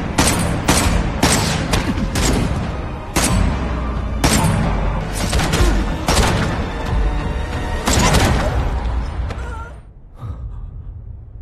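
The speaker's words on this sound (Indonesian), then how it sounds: "dia pun akhirnya turun gunung dan langsung menghujani Lee Do dengan peluru." Heavy gunfire in a film shootout, an attacker raining bullets on a man, with dense bursts of loud shots and impacts repeating across the scene before easing near the end.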